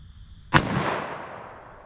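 A single sharp gunshot from a DoubleTap Equalizer pistol fired into ballistic gel outdoors, a loud close crack followed by a fading echoing tail.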